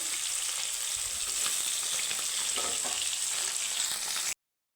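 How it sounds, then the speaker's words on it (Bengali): Pieces of katla fish frying in hot oil, a steady, dense sizzle that holds at an even level close up until it cuts off abruptly near the end. "এইভাবেই মাছগুলো লাল লাল করে আমি ভেজে নেব"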